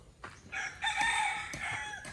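Roosters at a rural house construction site in the Philippines give a single clear crow, fairly close and alone.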